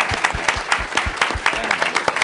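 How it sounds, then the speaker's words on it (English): A room full of people applauds after a memorial lecture and panel, with steady, dense clapping that carries on throughout. "another round of applause for our excellent speaker and our panel today"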